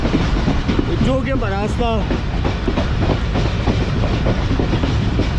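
Mohen Jo Daro passenger train rolling along rails in Sindh, a steady loud rumble with clickety-clack wheel rhythm throughout and a brief squealing, wavering tone early on; a voice speaks briefly over the noise.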